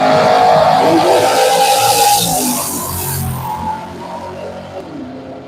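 A twin-turbo LS drag race car launches at a drag strip with a loud, roaring engine and tire noise, the sound sweeping away and fading into the distance as the car pulls down the track.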